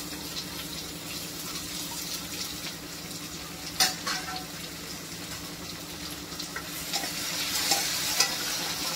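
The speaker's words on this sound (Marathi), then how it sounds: "टमाटर पण आपण मस्त छान शिजवून घेऊया।" Tomatoes cooking in oil in a dal tadka pan make a steady close sizzle and bubbling hiss, with a few brief stirring clinks and scrapes breaking through.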